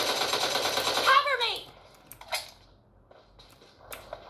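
Gunfire in the mobile battle-royale game PUBG Mobile, a loud dense burst of rapid shots in the first second and a half, then a few scattered fainter shots.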